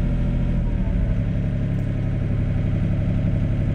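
A Sany SY35U mini excavator engine running at a steady, loud, close idle, a continuous low droning rumble that holds even with no clear change as the auto idle settles down.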